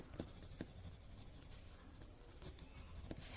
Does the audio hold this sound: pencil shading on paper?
yes